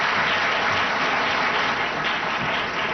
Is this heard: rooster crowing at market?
no